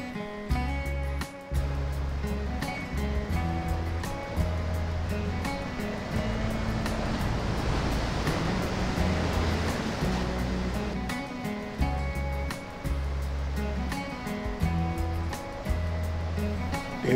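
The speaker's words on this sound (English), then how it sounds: "Getting pretty sloshy out there. Any bigger swell, we wouldn't be able to stay there." Ocean swell sloshes and surges around a small fishing boat out at sea, a steady washing roar with a low engine-like hum beneath, swelling louder midway and continuing without talk.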